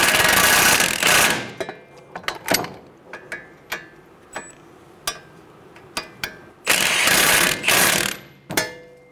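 A ratchet snugs down nuts on the steering knuckle of a 2011-2014 Hyundai Sonata during a front hub swap, giving short bursts of close clicking separated by sharp metallic taps and pauses.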